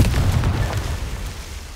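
Confringo fire spell exploding in Hogwarts Legacy, a single loud close blast with a deep rumbling boom that slowly fades.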